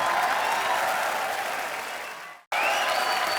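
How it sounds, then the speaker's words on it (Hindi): Audience applause welcoming child dancers onto a stage at a Bollywood party poster launch, a dense, steady wall of clapping that fades out briefly, then bursts back in at full strength. "तो जोरदार तालियों से स्वागत कीजिए"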